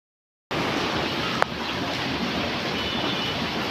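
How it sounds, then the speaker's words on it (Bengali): Heavy rain falling outdoors, a dense steady wash of noise that starts abruptly and holds at an even level, with one sharp click partway through. "আর বাহিরে ভালোই বৃষ্টি হচ্ছে"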